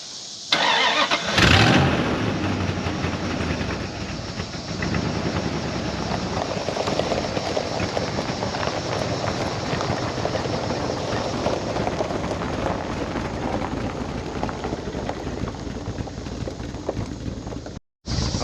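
An old purple Dodge D300 farm truck cranks briefly, catches and settles into a loud, rough idle that runs steadily and close by for the rest of the clip, cutting out for a moment near the end.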